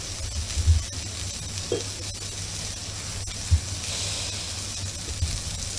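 Greenland halibut steak seasoned with salt and black pepper sizzling in a pan, a steady faint frying hiss with a few soft low knocks, no voices.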